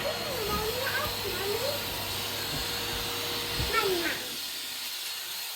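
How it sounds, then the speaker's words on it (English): A Henry XL Plus vacuum cleaner runs steadily throughout, a continuous broadband whir with a low hum, while a child and an adult talk over it and the motor note drops slightly near the end. "Batman, do you want to use Henry XL Plus? Which hoover are you going to use, Batman?"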